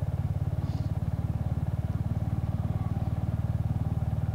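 Royal Enfield Hunter motorcycle riding along a country road, its single-cylinder engine thumping in a fast, even beat, steady and close, with faint wind and no talk.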